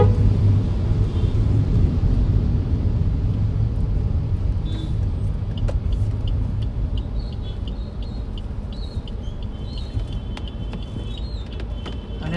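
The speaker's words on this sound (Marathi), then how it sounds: "समोर ट्रॅफिक तर दिसतंय भरपूर." Heavy road traffic in a jam near the Thane East toll plaza, a steady low rumble of car and bus engines close by with occasional brake hiss and faint birdsong, no talking.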